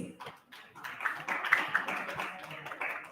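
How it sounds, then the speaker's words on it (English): An audience applauding at an inter-school quiz competition, steady moderate clapping from a crowd that swells and holds for a few seconds. "Audience, keep the applause going."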